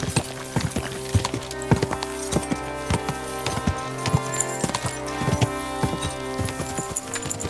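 Rhythmic hoofbeats clip-clop steadily and close, a horse trotting over a hard surface with a continuous musical drone underneath, in the video game Kingdom Come: Deliverance 2.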